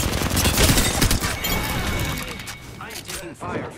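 Gunfire in a squad shooter video game crackles in dense bursts and volleys aimed at the player, loud and close, with a voice speaking over it.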